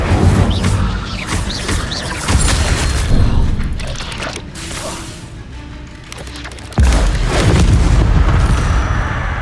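The Incendio fire spell in Hogwarts Legacy erupts in repeated loud whooshing booms and crackling blasts, mixed with other spell effects and a deep impact near the end of the fight.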